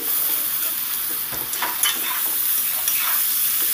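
Grated beetroot is stirred and fried in a pan with onions and spices, producing a bright, steady sizzle punctuated by quick scraping strokes of a spatula against the pan.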